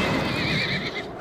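A horse in the video game Metal Gear Solid: Peace Walker lets out a loud, shrill neigh lasting about a second, with a faint clip-clop of hooves beneath it.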